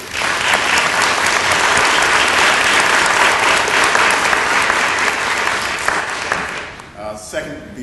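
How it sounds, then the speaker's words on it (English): Sustained, loud audience applause fills a municipal council meeting room for about seven seconds before trailing off, with a voice starting to speak at the end. "I just want to give everybody a round of applause for just a great job that you've done"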